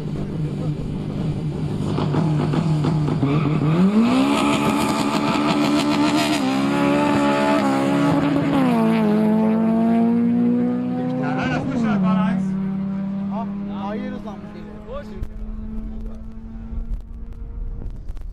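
A light 260 PS Honda drag racing a Golf 5 GTI on a quarter-mile strip in Brilon, engines revving hard through rising gear pulls before fading away, with a commentator talking over it.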